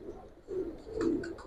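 Flying pigeons, including two white ring pigeons, coo in low throaty rolling bursts nearby, two swells of sound with faint higher chirps above, no voices.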